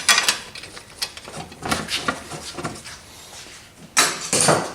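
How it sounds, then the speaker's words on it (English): A speed handle ratchet spins and clicks while tightening the alignment plate bolts on a 4R70 automatic transmission, with bursts of rapid metallic clicking separated by short pauses, close to the microphone. "Now, just like I always do, I use my speed handle first."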